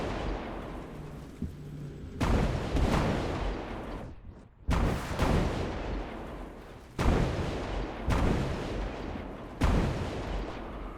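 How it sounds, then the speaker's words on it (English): Heavy booming blasts from the train game Derail Valley burst out one after another near a locomotive, several loud explosions with rumbling tails and no talking. "Here come the explosions."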